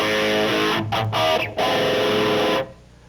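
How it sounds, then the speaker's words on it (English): A loud distorted electric guitar plays chords with a swirling, sweeping phase-shifter effect, briefly choked off a few times before cutting out near the end. "And there's the phase shifter."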